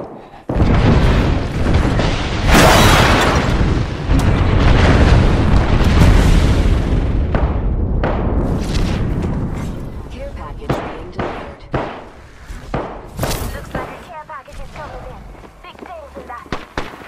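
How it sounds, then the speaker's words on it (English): Heavy booming airstrike explosions in the Apex Legends video game rumble loudly and continuously, followed by scattered sharper blasts and pops as the barrage fades, with a voice talking over parts of it. "we've got an airstrike coming in."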